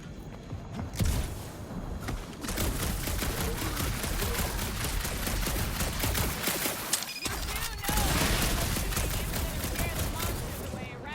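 Rapid gunfire from shooting in the Guardians of the Galaxy video game, a dense, continuous volley of shots running through the whole stretch under game music and effects.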